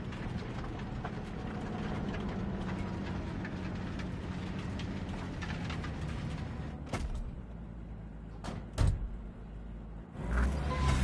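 A train in the Cyberpunk video game rumbles steadily with a broad mechanical hum and rattle, then a few sharp clanks and a hiss near the end, with no talking.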